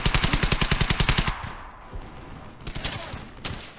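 Rapid machine gun fire in the World War II shooter Hell's Highway, a tight burst of about a dozen evenly spaced loud shots, followed by fainter scattered gunfire and battle noise.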